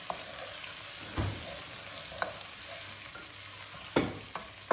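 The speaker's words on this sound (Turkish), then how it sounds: "Salçayı da iyice bir kavuracağız." Tomato paste and red peppers frying with onions in a pan, a steady close sizzle with occasional sharp clacks of stirring.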